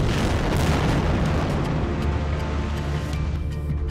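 Heavy booming blasts from bombs in Israeli airstrikes on buildings in Gaza, a loud continuous rumble of explosions with sharp bursts layered on top, heard close and alone without speech.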